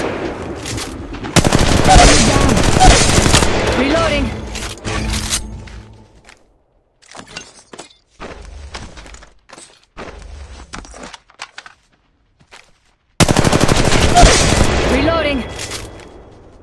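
Bursts of automatic gunfire in the mobile battle royale Apex Legends Mobile, loud and sustained at the start and again near the end, with quieter scattered shots between.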